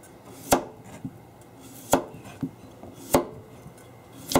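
Sharp knife chopping through a carrot on a cutting board, four crisp, loud thuds spaced about a second apart with softer taps between them, close and clear with no talking.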